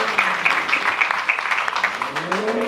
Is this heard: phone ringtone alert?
no